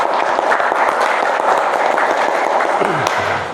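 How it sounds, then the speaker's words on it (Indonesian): Classroom applause for a student, a dense, steady patter of many hands clapping at close range that tapers off near the end. "tepuk tangan dulu untuk Fauzan"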